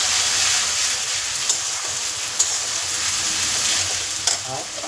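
Spice masala sautés in a pan for a shrimp and taro dish, giving a steady close sizzle and fry with occasional scraping stirs and small pops throughout.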